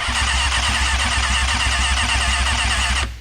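A 1998 Kawasaki ZX6R motorcycle engine cranks steadily without catching, a continuous loud mechanical churn with a rhythmic pulse for about three seconds before it stops abruptly.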